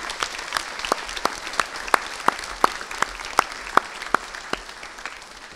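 An audience at a junior school induction at Ipswich Grammar School applauds new school staff, with steady clapping and a few sharper individual claps standing out, a moderate crowd heard up close for several seconds.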